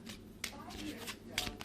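Linen-finish playing cards are riffled and shuffled by hand in a short burst of crisp, fluttering snaps, close and fairly quiet, with light handling noise between the flurries.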